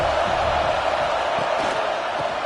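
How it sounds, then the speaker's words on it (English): A steady, dense stadium crowd roar from the Alabama Tide home crowd on third down in the College Football 26 video game, a continuous wash of noise with no breaks. "The Tide crowd rolling noise down on the Saban field on 3rd down"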